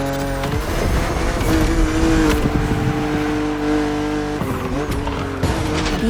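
A BMW Z roadster races in The Crew Motorfest, its engine roaring steadily with shifting revs, tire squeal and skids, close and loud throughout with no voice over it.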